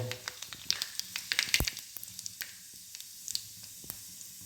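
Cumin seeds crackle and sizzle in hot oil for a dal tadka tempering. They pop in quick irregular bursts over a soft frying hiss, close and fairly quiet.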